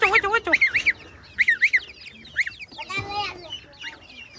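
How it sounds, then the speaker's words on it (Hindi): Backyard chickens cluck and squawk in short, repeated bursts close by, with bird calls filling the scene among a group of young hens and roosters. "देखें माशाल्लाह कितना बड़ा हो गया चूजा।"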